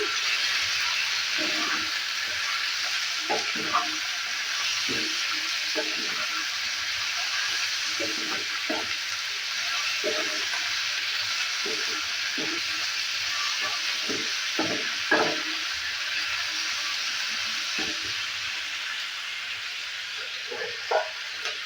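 Ivy gourd (kundru) stirred in a frying pan with cumin, chili and coriander powder, giving a steady loud sizzle with repeated soft scraping strokes of the spatula throughout.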